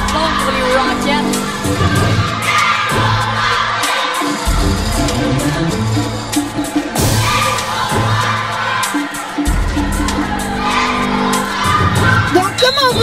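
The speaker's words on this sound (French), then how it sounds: "on voit déjà la foule qui encourage fort fort pour les Rockets" A loud, agitated crowd roars and cheers for the Rockets at a hockey final, a dense continuous din with shouts and whoops rising and falling throughout, close and unbroken.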